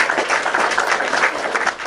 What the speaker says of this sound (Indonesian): Kita beri tepuk tangan dulu ya.